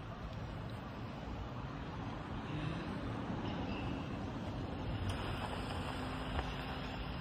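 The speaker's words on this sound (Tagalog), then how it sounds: "May mga sasakyan." Vehicles pass along a road during an afternoon walk, heard as a continuous low, faint roadway rumble with a mild swell as one goes by, no clear voices.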